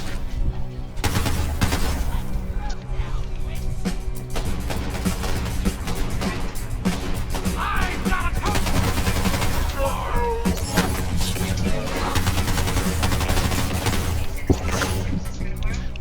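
Dense Borderlands 3 gunfire, rapid bursts and booms piling up continuously in a loud, busy game mix, with a voice speaking over it at times.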